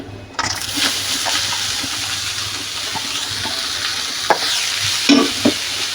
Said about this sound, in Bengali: শাকগুলো আমি এখন দিয়ে দিব।